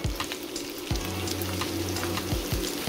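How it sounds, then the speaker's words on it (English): Red onions sauteing in oil in a cooking pan make a steady, fairly loud sizzle, broken by several low thumps and scrapes from stirring. "we have our oil here in our cooking pan. And then we will saute the red onions"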